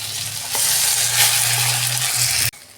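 Taro paste hits a hot pan of fried garlic and nigella seeds, setting off a loud, close, steady sizzle with stirring scrapes before the frying noise abruptly drops away near the end.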